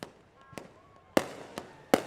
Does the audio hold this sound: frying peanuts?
no